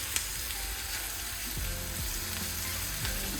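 Onions and mushrooms sizzling in a pan as they are stirred together, a steady close frying hiss with a few soft scraping stirs.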